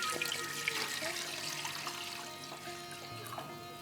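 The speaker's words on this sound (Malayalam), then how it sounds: "ആദ്യം പാൽ ഒഴിച്ചോളൂ ഇതിൽ" Milk pours into a cooking pan in a soft, continuous liquid stream lasting a few seconds, fairly faint and without talk.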